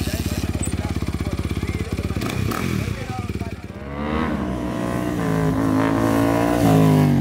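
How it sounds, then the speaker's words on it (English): A motorcycle engine revs hard at a street bike-life gathering in St Lucia, starting with a rapid loud stutter, then rising and sustaining as the rider lifts the front wheel, with voices and crowd noise mixed in. "As the revs rise and the front wheels go up"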